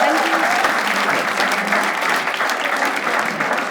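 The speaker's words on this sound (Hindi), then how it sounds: "एक बार ताली बजा दो इसके लिए यार," A stand-up comedy crowd claps at a show, making dense, sustained applause that stays loud and even throughout.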